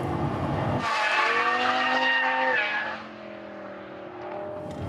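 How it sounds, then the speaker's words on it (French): A Lamborghini LP570-4 V10 engine screams past at speed on a race track, its pitch rising then dropping as it shifts and fades into the distance. "le bruit du V10, c'est magnifique"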